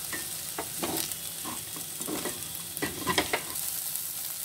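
Sabudana khichdi cooking in a pan on a low flame, a gentle steady sizzle with several short stirring scrapes and spatula taps.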